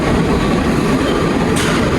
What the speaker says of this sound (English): Whew, the train coming.